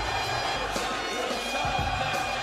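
Philadelphia wrestling crowd at a WWE event cheering for John Cena, a steady dense roar of many voices filling the arena, loud and continuous with no single voice standing out.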